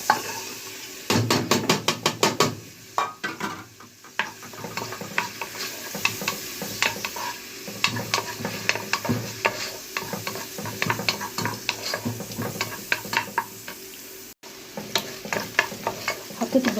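Onion pieces frying in a little oil in a home kitchen pan while being stirred, a steady close sizzle broken by repeated scraping stir strokes, with no talking.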